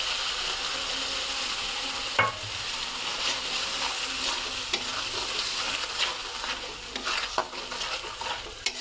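Tomato paste frying in hot mustard-oil masala for a cauliflower and fish curry, with a steady broad sizzle and scattered sharp scrapes and taps of a spoon stirring in the pan, close and moderately loud, with no talking.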